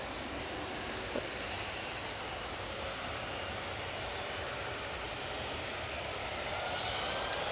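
Airplane engine at Manchester Airport, a continuous, moderately loud broad roar that swells slightly toward the end with no voices.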